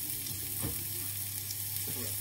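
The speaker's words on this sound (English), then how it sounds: "So I'll flip my sausages around." Sausages frying on medium heat in a pan give a steady close sizzle throughout, with a brief clatter midway as they are turned.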